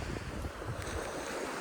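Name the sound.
sea waves on a beach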